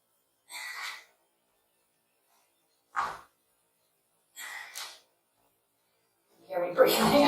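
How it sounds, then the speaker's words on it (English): Hard, heavy breaths in short separate bursts during a dumbbell metabolic conditioning workout, close to the microphone with silence between gasps. "Hear me breathing? I'm breathing hard."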